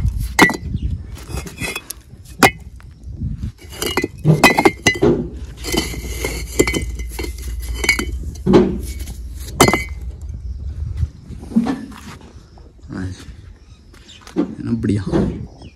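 Fired bricks from a diesel kiln near Delhi being struck and knocked together, giving a series of sharp ringing clinks with irregular pauses, close and fairly loud, while someone talks in between.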